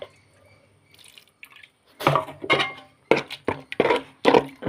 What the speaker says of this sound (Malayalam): അപ്പോൾ ഇത്തിരി കൂടി ഞാൻ വെള്ളം പാർന്ന് കൊടുക്കട്ടെ.